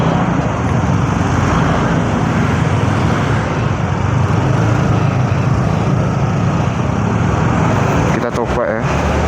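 Dense road traffic in a jammed street heard from a moving motorbike, a steady loud wash of engines and tyre noise with no letup.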